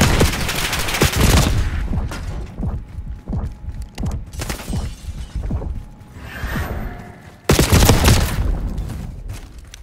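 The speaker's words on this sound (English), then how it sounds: "I gotta try out this fire shotgun." Rapid repeated fire-shotgun blasts in the video game Warzone, loud and close, in bursts of sharp booms with whooshing effects, a short gap, then a heavy final volley.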